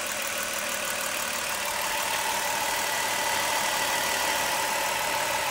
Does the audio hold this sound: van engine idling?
yes